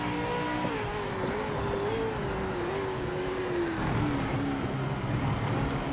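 A V8 Supercar engine in the Project Motor Racing sim racing game drones steadily from the cockpit, pitch sliding down and then rising a little as the car moves through a corner.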